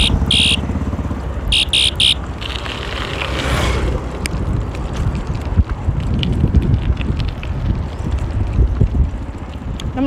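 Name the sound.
wind blowing on microphone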